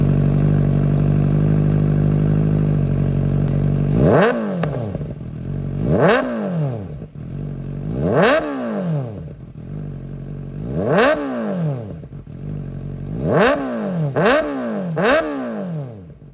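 A motorcycle fitted with a new exhaust idles with a steady low rumble for a few seconds, then is revved sharply about seven times, each rev climbing and falling away, loud and close with no voices.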